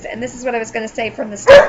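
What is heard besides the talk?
dog barking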